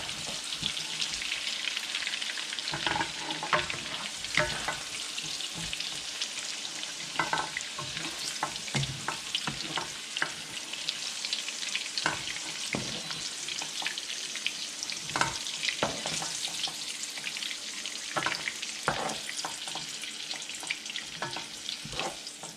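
Beef chunks frying in hot cooking oil for Filipino beef kaldereta, a steady close sizzle with frequent sharp crackling pops spread through the whole stretch, with no talking.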